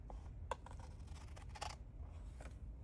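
Scissors snip through a washi tape tag, with several quick, close cutting clicks against a soft background hiss.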